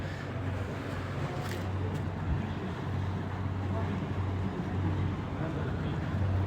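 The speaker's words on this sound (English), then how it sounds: "that's the sound of another boat" A steady low engine drone of a passing boat on the Seine in Paris hums beneath wind and rushing water, continuous and moderately loud throughout.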